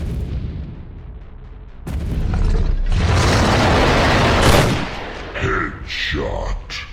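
Gunfire and heavy booming blasts from ARK: Survival Evolved, loud and sustained over several seconds with mechanical clatter, ending in a few shorter bursts.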